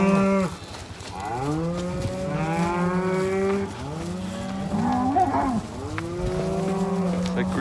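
Several cattle moo loudly and close by, long drawn-out calls overlapping one after another as the herd is moved back to Rio Grande for the winter.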